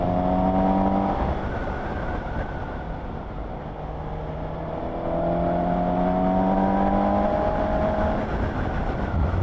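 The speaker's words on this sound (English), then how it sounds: "I like the sound, the induction sound when you give the throttle a twist" A 2020 Suzuki GSX-S750 motorcycle on the road gives a loud induction roar as the throttle is twisted, engine pitch rising and falling over wind rush, with no talking.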